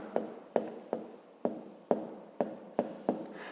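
Pen or pencil writing a math answer on paper, a quick series of about eight sharp taps and short scratching strokes at a steady rhythm, close and fairly quiet.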